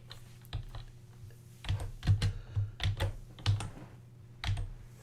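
Typing on a computer keyboard, with close, crisp key clicks in irregular bursts, several quick runs of keystrokes separated by short pauses, and no voices.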